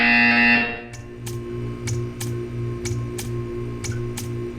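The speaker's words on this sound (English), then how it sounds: "When you hear the buzzer, stare at the art." A harsh electronic buzzer sounds in Portal 2, a loud tonal blare cut off after about a second, followed by a series of sharp, evenly spaced ticks over a low hum.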